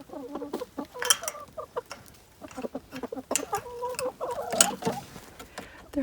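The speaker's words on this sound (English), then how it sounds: "But chickens." Chickens cluck and chatter in their coop in snowy weather, several birds producing repeated short clucks and a few sharper squawks close by, with a person speaking softly among them.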